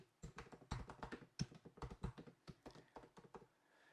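Fingers typing a name on a computer keyboard, a quick run of soft clicking keystrokes in uneven bursts, close and quiet, with no talking.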